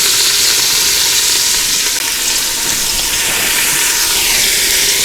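Ribs browning in a pressure cooker on sauté mode give off a loud, dense, continuous sizzle with a steamy hiss, close up and steady with slight swells.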